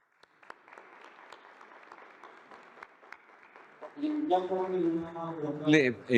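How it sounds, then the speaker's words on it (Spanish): Applause at a Mexican presidential press conference: steady scattered clapping from a room of people for about four seconds, then voices talk loudly over it as the clapping continues beneath. "Un aplauso."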